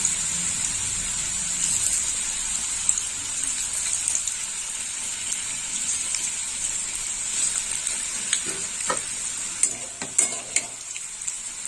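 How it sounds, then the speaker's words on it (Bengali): Steady sizzling of papad frying in hot oil, with occasional clinks and scrapes of a utensil toward the end. "বাকি পাঁপড়গুলো আমি ভেজে নেব এইভাবে পাঁপড়গুলো দিয়ে দিতে হবে"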